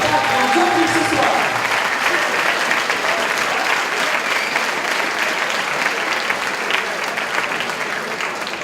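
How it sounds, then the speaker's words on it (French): An audience at a fight gala applauds the fighters at the opening ceremony of the Röschtigrabe Derby 2013, loud, dense, sustained clapping filling the hall throughout, easing slightly toward the end. "je crois qu'on peut encore une fois les applaudir pour le courage et pour le spectacle qu'on nous offre ce soir."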